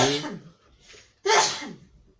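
A single sharp sneeze bursts out loudly after a brief breathy intake, followed by a quiet exhale; no one speaks.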